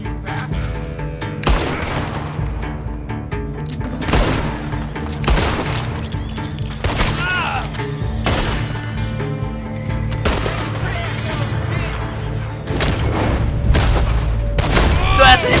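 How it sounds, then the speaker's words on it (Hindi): Rapid gunfire erupts from all sides during a Red Dead Online prison escape shootout, with dense overlapping shots and booming volleys sustained and loud throughout the stretch. "फायरिंग चारों तरफ से स्टार्ट हो गई है भाई।"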